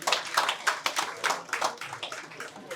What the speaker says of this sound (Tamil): நல்ல ஒரு பலத்தை கைத்தட்டு ப்ளீஸ்.